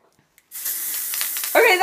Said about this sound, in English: One spray